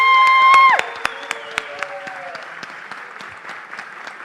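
Audience applause at an engineering graduation ceremony: a brief tonal sound gives way to steady crowd clapping with a few sharper individual claps standing out, moderately loud and continuing to the end.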